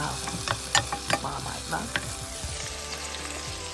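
Onions frying in oil in a pan give a steady close sizzle, punctuated by scraping stir sounds and clatter as they are moved around. A few words are spoken over the sizzling.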